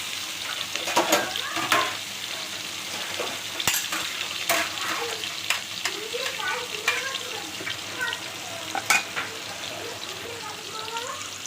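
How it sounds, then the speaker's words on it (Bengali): Onion fries in a pan alongside hilsa fish, giving a steady close sizzle with repeated scraping stirs and utensil clinks, while someone talks over it. "তারপর পেঁয়াজ ভেজে দেবো"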